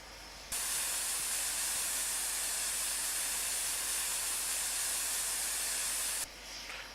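Steam locomotive Tornado venting a loud, steady hiss of steam at a heritage railway station, starting abruptly, holding for about six seconds and then cutting off sharply.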